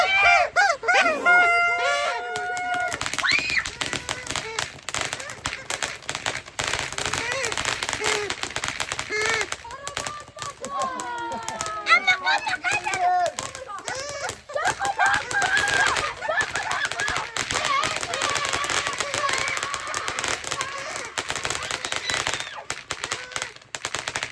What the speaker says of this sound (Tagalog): lakas ng fireworks natin